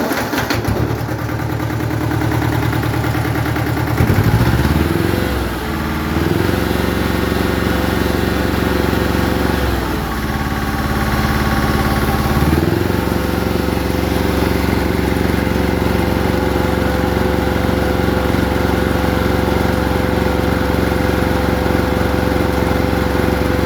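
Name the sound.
Yanmar diesel engine running and idling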